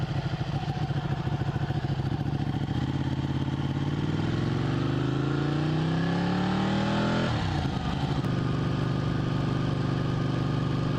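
A motorcycle out on a cruise, its engine droning steadily up close and then revving up through rising pitch before settling back, a constant loud roar with no talking.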